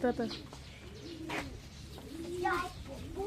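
A pigeon coos at a zoo farm in Tagaytay, giving a few soft, low, rounded coos close by, with faint voices and light chirps in the background.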